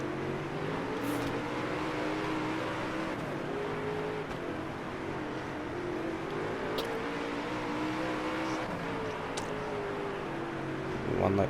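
A dirt race car engine in WoO: Dirt Racing 24 roars and revs through a race, its wavering whine rising and falling continuously with brief sharp transients, loud and close, without talking.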